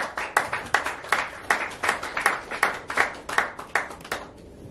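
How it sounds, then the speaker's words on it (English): Scattered hand clapping from a small audience at a launch event for an Indian fashion TV channel, rhythmic and fairly close, fading out after a few seconds. "Give him a huge round of applause"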